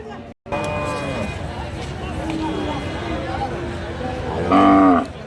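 Sahiwal cattle low at a border-area cattle market, with one long deep moo rising near the end over constant crowd chatter and background noise.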